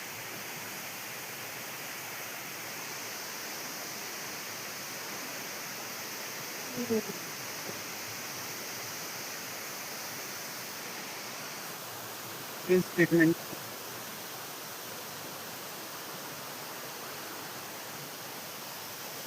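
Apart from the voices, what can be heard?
rushing river water in a jungle in Meghalaya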